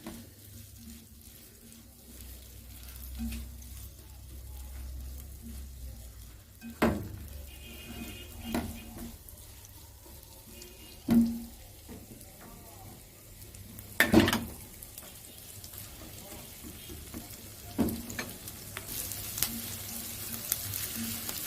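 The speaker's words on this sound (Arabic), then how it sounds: "كده البصل دبل والثوم هو كمان دبل اهو." Onion and garlic softening in a pan, a low sizzle under scattered clinks and scrapes of a utensil against the pan, close but fairly quiet, with no speech.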